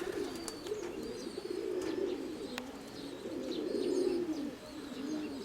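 Soft, low pigeon cooing rolls on continuously nearby in a pigeon loft, with faint chirps and small clicks scattered over it.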